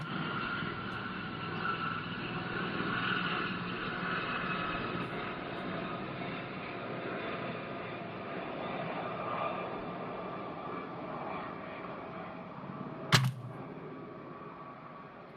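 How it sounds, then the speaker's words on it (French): A helicopter passing overhead as a quiz sound, a steady broad rumbling drone that holds for about fifteen seconds at an even, moderate level, with one sharp brief click near the end. "le bruit d'un hélico, c'est vraiment ce bruit-là hein, quand ça passe"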